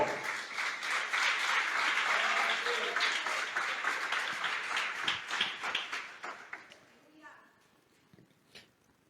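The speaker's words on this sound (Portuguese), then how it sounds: "Você pode aplaudir ao Senhor?" A church congregation applauds in praise during a service, a dense, sustained round of clapping that holds steady for several seconds, then thins and tapers off into near quiet.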